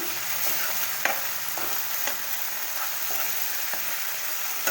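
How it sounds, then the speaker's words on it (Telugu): Fenugreek leaves and chicken fry in hot oil, giving a steady, close sizzle with occasional sharp clicks and stirring taps and no voices. "మెంతికూర బాగా వేగాల నూనెలో"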